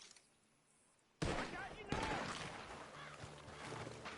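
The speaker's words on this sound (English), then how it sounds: "The gunshots are coming from that barn!" Gunshots ring out from a barn in Red Dead Redemption 2, a sudden loud burst of gunfire with echoing shots and sustained noise after a quiet start.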